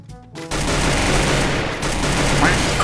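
Rapid gunfire bursts in the mobile battle-royale game Free Fire, loud and dense for most of the clip after a brief quieter opening, with game sound effects layered in.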